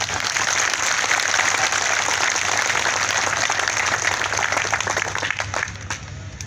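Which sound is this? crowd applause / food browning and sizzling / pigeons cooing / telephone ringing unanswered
crowd applause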